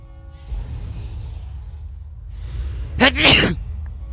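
A single sharp sneeze bursts out near the end, close and fairly loud, after a few seconds of low room hum and soft background noise, with a faint breath just before it.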